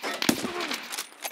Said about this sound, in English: Shots. Killed a guy.